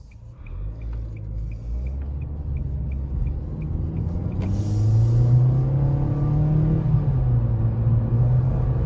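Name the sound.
2020 Nissan Kicks accelerating from a stop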